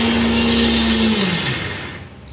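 A kitchen mixer grinder whirs at a loud, steady motor pitch, then winds down as it is switched off, with its tone sliding lower and fading near the end.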